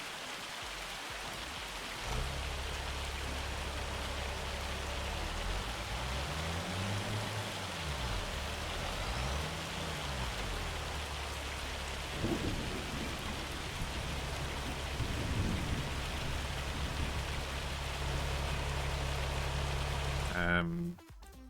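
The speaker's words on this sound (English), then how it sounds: "And it's raining." Rain falls in Farming Simulator 25 as a steady soft hiss with a low rumbling bed and occasional faint thunder swells, running alone for about twenty seconds before cutting off.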